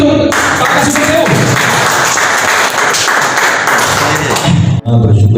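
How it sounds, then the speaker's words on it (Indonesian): An audience at a Ministry of Religious Affairs budget meeting in Sumenep breaks into loud, sustained applause that fills the room, with thuds mixed in, cutting off abruptly near the end. "Tepuk tangan lagi untuk Pak Kasubag TU."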